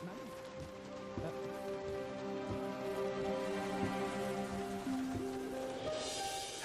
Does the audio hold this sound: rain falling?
yes